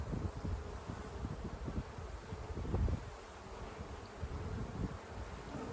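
A dense, continuous hum of honey bees fills the air at an opened hive during inspection, close and fairly loud, with faint breeze rustle and no voices.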